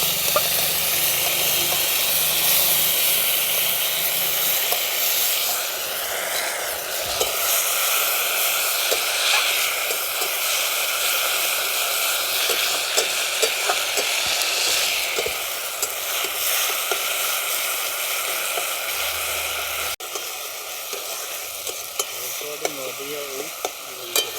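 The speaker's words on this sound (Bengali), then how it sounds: "টমেটো আদা আর কাঁচা লঙ্কা এর পেস্টটা আমি দিয়ে দিচ্ছি" A paste of tomato, ginger and green chili fries in hot oil, sizzling steadily up close while a spoon stirs and scrapes the pan, with occasional clatters.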